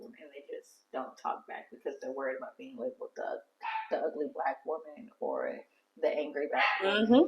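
A reactive dog barks and yips in a home, sharp bursts scattered between and under a woman's steady speech and louder toward the end.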